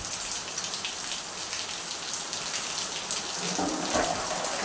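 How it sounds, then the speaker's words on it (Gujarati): Rain falls steadily outdoors, a continuous soft hiss and patter at moderate distance, with no talk. "હમણાં 2 દી થયા નહોતો વરસાદ આવ્યો, વળી આજે આવ્યો।"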